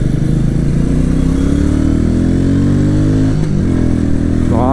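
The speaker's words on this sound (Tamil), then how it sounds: "இப்போ வர நெக்ஸ்ட் கியர் போகும்போது இருக்கும் தெரிதா அந்த புடுக் புடுக்குன்னு அப்படியே துள்ளுது வண்டி" A Royal Enfield Meteor 350 single-cylinder motorcycle pulls loudly and continuously while ridden, its harmonic engine note rising steadily, dipping briefly at a gear shift near the end, then climbing again.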